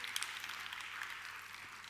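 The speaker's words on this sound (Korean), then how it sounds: "박수 한번 부탁드려도 될까요?" An audience claps at a presentation by the Chuncheon cultural foundation, producing a faint, distant patter of applause that stays steady for a couple of seconds, with no talking.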